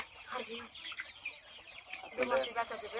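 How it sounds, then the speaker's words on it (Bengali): Sonali chickens on a poultry farm cluck and chatter close by in short irregular bursts, with a louder flurry of calls near the end, a voice briefly heard among them. "কার এটা মুরগি?"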